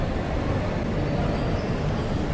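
Steady, loud low rumble of a metro train ride in Madrid, a continuous dense roar without breaks or voices.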